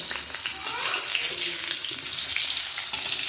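Eggplant slices fry in hot oil, giving a loud, steady, close sizzle that crackles continuously with no let-up.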